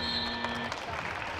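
A wrestling arena crowd breaks into sustained applause and cheering after a high-scoring 61kg semifinal bout between Seth Gross and Nahshon Garrett at the 2018 World Team Trials, a dense, steady roar with music faintly beneath it.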